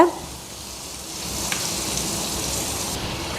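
Butter melting and sizzling in a pan while veg pasta is cooked, a steady close crackling hiss with no talking.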